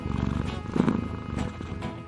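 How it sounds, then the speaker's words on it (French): A cat purrs in a low, steady rumble for about two seconds, close and fairly soft, with no other sounds over it. "je pense à un animal qui ronronne quand on le caresse"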